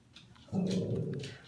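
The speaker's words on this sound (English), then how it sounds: "That's my dog." A dog's low growl rumbles close by for about a second, rising suddenly and then fading out.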